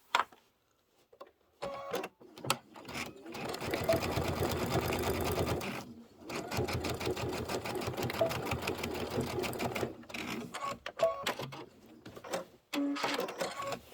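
A sewing machine sews a glitter-nose reindeer tote bag in long, steady runs of rapid stitching, broken by short pauses. A little talk comes in the gaps.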